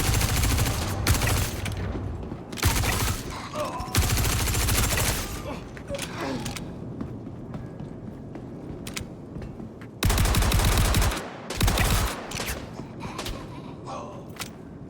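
Gunfire in the video game Star Citizen, loud close bursts of rapid automatic fire broken by quieter gaps with scattered distant shots.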